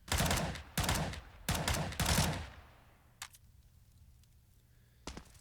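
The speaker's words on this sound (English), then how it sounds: "spraying Simphis with the UMP manages to find a kill somehow" Counter-Strike UMP submachine gun sprays on the Mirage map during a competitive match: four loud rapid bursts of automatic fire, then a quieter stretch with a couple of distant single shots.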